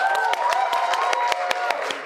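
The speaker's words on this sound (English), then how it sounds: "Get some applause there" Scattered applause from an audience at an indie game studio event: a few distinct, sharp hand claps ring out at a loose, uneven rhythm, fairly close and moderately loud.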